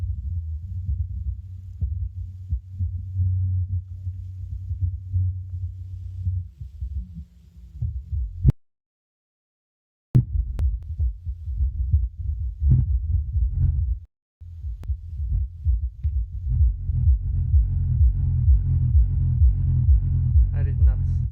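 A Celestion S10 active powered home-theatre subwoofer pumps out deep, throbbing bass pulses. They stop for a silent gap of about two seconds, then return in rhythmic low thumps that grow denser.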